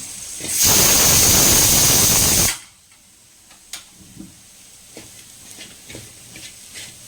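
Grated coconut and jaggery meeting hot ghee in a pan burst into a loud, steady sizzling hiss for about two seconds, then drop to faint scattered clicks and crackles.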